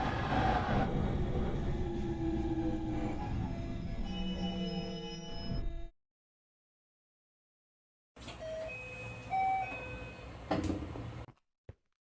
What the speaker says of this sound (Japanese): 到着の列車は18時59分発、団体、サンライズエクスプレス、でございます。